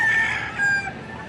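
A rooster crows among chickens at a busy poultry market, one clear crow rising then trailing off over a low murmur of background bustle and clucking, fairly close.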